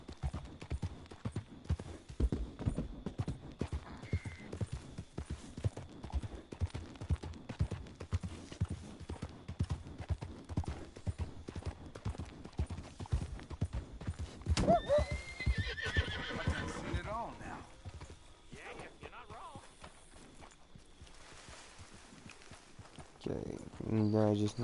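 Horse in the Red Dead Online video game, steady clip-clop of hooves throughout with a loud whinny partway, a voice talking over the hoofbeats at times.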